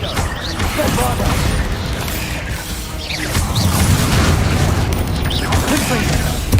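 Bombarda blasting spells in Hogwarts Legacy combat, loud repeated booms and crashing impacts in a dense, continuous battle din with whooshes and voices mixed in.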